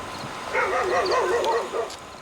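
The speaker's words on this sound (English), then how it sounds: "He started barking, and that's kicked off the other dogs down the road." Several guard dogs bark in a rural village at night, a run of distant, overlapping yaps and barks rising and falling for about a second and a half with no talking.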